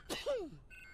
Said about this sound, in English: The really loud warning beep, nothing to worry about